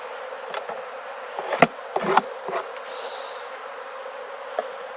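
Honey bees buzzing around an opened hive during a fall hive reduction in Jacksonville, Florida, with several close fly-by buzzes passing the microphone over a steady low hum.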